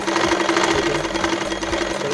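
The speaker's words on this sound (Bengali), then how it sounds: "তারপর আমরা এটাকে একটি প্রথমে সেলাই করে নিব" A sewing machine stitches a thin fabric strip for a cord, giving a loud, steady, rapid mechanical whirring and chattering that runs unbroken throughout, with no voices.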